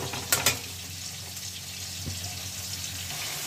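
Radish greens frying with a little salt in a pan, a soft steady sizzle with a couple of sharp utensil clinks early on, close and continuous.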